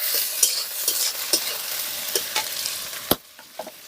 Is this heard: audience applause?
no